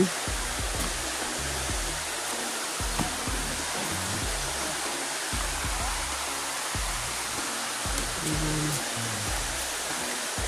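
Water rushes and gushes steadily as a fish pond is drained, a continuous broadband roar with low churning pulses, close and loud throughout.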